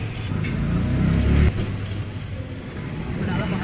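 A car engine rumbles steadily and close as the car drives off toward a market, with a brief drop in level partway through and voices faintly present.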